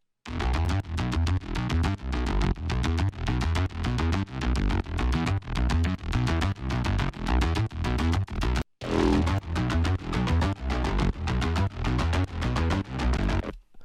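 A harsh, distorted Omnisphere synth bass pulses in rapid repeated notes, loud and gritty, with a brief gap partway through before the pattern resumes.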